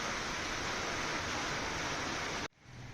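Heavy monsoon downpour with water gushing from springs bursting out of soaked ground, a dense roaring wash that cuts off abruptly near the end, leaving quieter rainfall behind.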